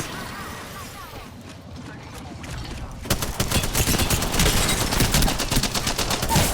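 Charge rifle fire in an Apex Legends match: quieter game sounds at first, then a sudden, loud, sustained barrage of rapid shots and impacts, with players talking throughout.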